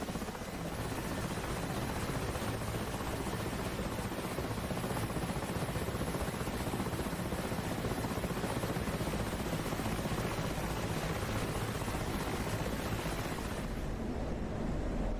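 A helicopter flies in Turkish airspace near Yayladağı at about 14,000 feet, its rotor and turbine making a dense, steady roar that stays loud and unbroken throughout, with no voices.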